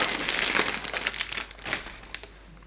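Plastic wrapping on packages crinkles and crackles as they are opened, a steady close rustle that gradually thins into scattered crinkles.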